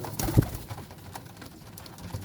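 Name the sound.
flying pigeons cooing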